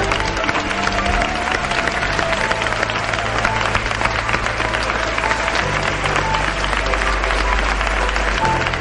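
A theatre audience applauds a cast member at a staging of The Exorcist, a sustained, full burst of clapping and some cheering that stays loud from start to finish, with music or low tones running underneath.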